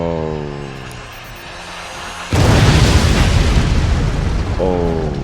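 Rocket explosions in the strategy game Forts erupt as a sudden, loud, sustained roaring blast of booming noise that follows a brief stretch of quieter game sound and persists to the end.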